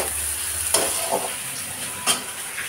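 Onions fry until lightly reddened in a pan, giving a steady close sizzle. Two sharp scraping stirs break through it about a second apart.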